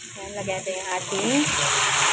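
Chicken pieces sizzle in a hot pan with ginger for ginataang manok, a close, steady frying hiss growing louder as they are stirred, with faint scraping.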